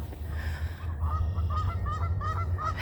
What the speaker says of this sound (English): The geese like to chime in.